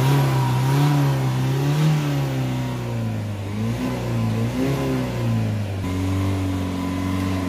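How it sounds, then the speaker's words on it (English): A Ford Transit Connect 1.5 van engine revs up and down repeatedly while clearing smoke, its pitch rising and falling in waves, loud and close with no talking. "Now we'll just give it a few more revs."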